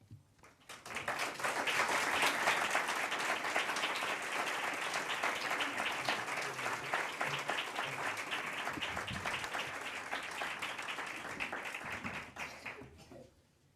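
Sustained audience applause after a public talk at a weekend congregation meeting, loud and steady for about twelve seconds before fading out, with no talking over it.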